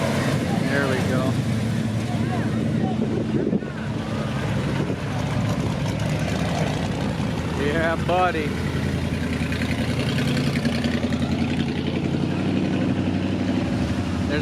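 Engines of classic Chevy and Jeep cars rumble at a car cruise with a steady, loud, close idle throughout, while a voice briefly calls out over the noise.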